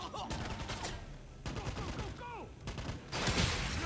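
Enemy gunfire in the Wolfenstein video game, a dense run of rapid shots and bursts with ricochet-like whines, steady and loud throughout, ending in a heavier burst.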